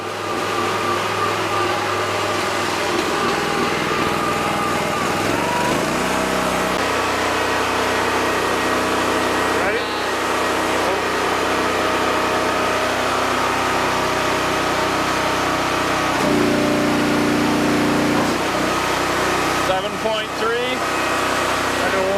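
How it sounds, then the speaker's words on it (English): A Wolfe Ridge Pro28C log splitter's engine runs steadily through a split cycle, a constant loud mid-pitched drone whose tone shifts and strains as the hydraulics load and release, with talk partly over it. "we've been running it through some cycles, so we're going to time it now"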